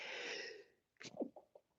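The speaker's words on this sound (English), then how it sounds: "I just sneezed." A single quiet human sneeze: a breathy hissing intake followed by a sharp burst and short trailing exhales, close and faint, with no other sound around it.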